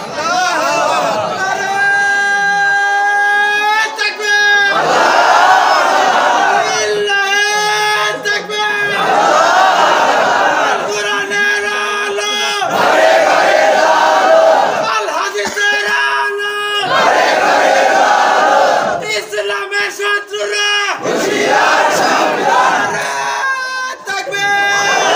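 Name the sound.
crowd chanting religious slogans in Allah's name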